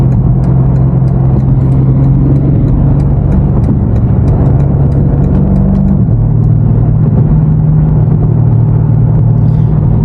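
A BMW F90 M5 Competition driving in New York City traffic, its engine giving a loud, continuous low rumble heard from inside the cabin, with the tone shifting slightly partway through.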